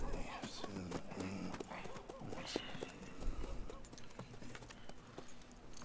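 A horse's hooves clip-clop close by in Red Dead Redemption 2, amid background ambience, with a few brief tonal calls and rustling; no clear talk over it.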